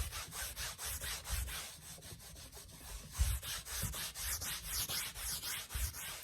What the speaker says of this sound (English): I'm going to rub it onto the canvas to spread out the oils, pastels that I used on here